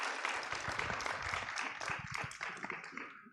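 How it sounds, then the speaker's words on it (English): Conference audience giving a round of applause for panel speakers, many hands clapping in a lively, continuous patter at moderate volume that fades out at the very end. "Please do give a round of applause for the speakers."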